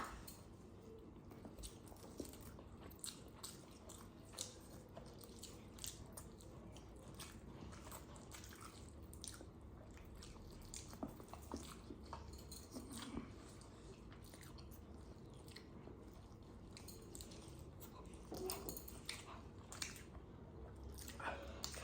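Close, quiet chewing and biting sounds during a timed eating contest between a husband and wife, soft wet mastication repeating steadily over a faint background with occasional brief voices.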